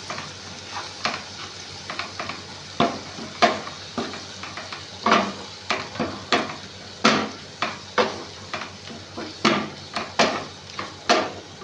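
Food with red chilli is stirred in a pan, the utensil giving a steady series of scraping, clinking strokes over a soft sizzle, close and moderately loud, with no talking.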